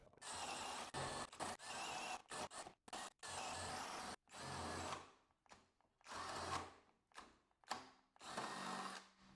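Skil 12V PWRCore compact drill boring holes, a whining motor in repeated bursts that bog down and cut off abruptly as the bit jams, with short pauses between runs.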